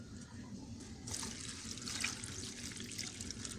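Water is poured into a container over neem leaves and kitchen waste, making a faint, close splashing trickle that grows fuller after the first second and keeps on steadily.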